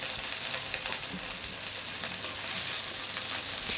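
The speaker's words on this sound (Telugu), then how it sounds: "ఆయిల్ బాగా వేడెక్కిన తర్వాత మనం కట్ చేసి పెట్టుకొని ఉన్న వంకాయలను వేసుకొని" Cut brinjal pieces fry in hot oil in a pan, a dense, close crackling sizzle with small popping bursts throughout, steady and uninterrupted with no voices.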